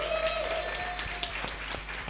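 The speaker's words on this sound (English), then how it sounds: "I thought I would be hearing a round of applause." Audience applause during a panel discussion at a festival: steady clapping with distinct individual claps heard near the microphone, running the full length under a faint tonal hum.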